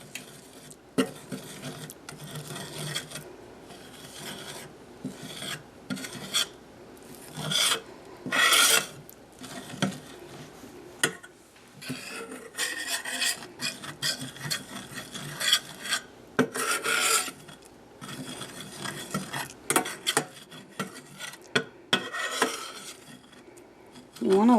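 Flour being stirred into bacon grease in a pan to make a roux for Southern gravy, a soft repeated scraping and rasping of utensil against the pan, close and fairly quiet with pauses.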